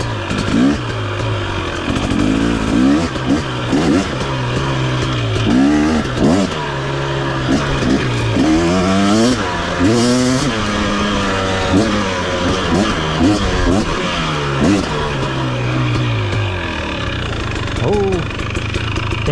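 A 2023 KTM 250 XC dirt bike engine revs up and down repeatedly while riding, rising and falling in loud pitch sweeps over a steady low drone, with brief talk in places.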